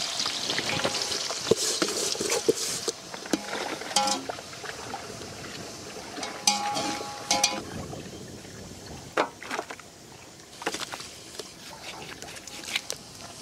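Mutton and onions frying in a large pot for a village-style goat curry, a steady close sizzle with intermittent stirring scrapes and clinks, no talking.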